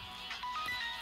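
A mobile phone ringtone chirps in a short, bright electronic pattern inside a home, with no talking over it.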